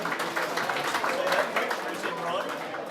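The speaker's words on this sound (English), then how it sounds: "Let's get a round of applause for our judges." Applause and scattered cheers for the judges at the Australian National Budgerigar Championship: a steady, dense crowd clapping for about three seconds, with voices calling out over it.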